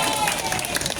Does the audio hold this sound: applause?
yes